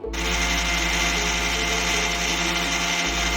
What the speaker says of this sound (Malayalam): ചൂടാറി കഴിഞ്ഞ് വെച്ചാൽ അതെ ഇതേപോലെ പൊടിച്ചെടുക്കാം.